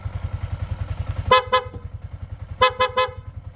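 A Yamaha Sniper 155 motorcycle sounds two quick bursts of horn toots, a pair and then a triple, as its horn selector switches between stock and PIA horns. A steady pulsing engine idle runs underneath throughout.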